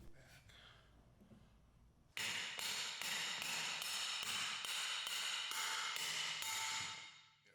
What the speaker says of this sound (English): Place the new bearing onto the shaft and seat it with a metal pipe or bearing driver tool and hammer